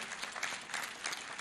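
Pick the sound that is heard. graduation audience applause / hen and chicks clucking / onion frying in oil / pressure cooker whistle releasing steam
graduation audience applause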